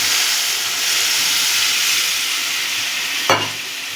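Water is poured into a masala of white poppy seeds and sesame frying for egg korma. A steady sizzle runs throughout, then a sudden, louder hissing burst near the end that quickly settles.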